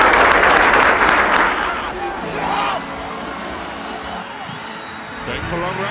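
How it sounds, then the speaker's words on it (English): A football stadium crowd claps and cheers in tribute to a departing Mamelodi Sundowns number 8, loud at first, then easing into a lower roar of crowd hubbub with voices underneath. "Can we all please stand up and clap hands for our famous number 8?"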